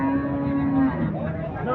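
A Sahiwal bull of around 500 kilograms at a cattle market moos loudly and close by, one drawn-out low harmonic call that bends upward near the end, amid background chatter.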